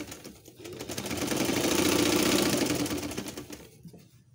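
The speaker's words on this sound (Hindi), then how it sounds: "दूसरे खाने पे जो हमने स्कोर जो बनाए थे, स्क्वायर जो बनाए थे चौकोर, उसके ऊपर हम सिलाई कर रहे हैं" Sewing machine running steadily for a few seconds while stitching over the squares of a patchwork table runner, a close, continuous whirring rattle that rises, holds, then stops.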